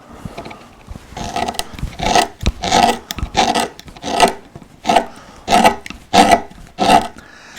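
A wood carving gouge cuts into a relief panel in a rhythmic series of about a dozen close, rasping strokes that grow more regular toward the end, with no talking.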